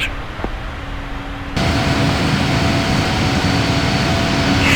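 A PMDG Boeing 777-300ER of Air New Zealand spools up for takeoff from Auckland runway 23 left in a flight simulator, a quiet hum jumping to a loud, steady broadband engine roar that holds to the end.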